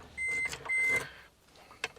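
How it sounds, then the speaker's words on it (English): Two evenly spaced electronic door-open warning beeps from a Daihatsu Atrai 7 sound close by, followed by quiet and a soft click. "We got the beep beep because I've got the door open."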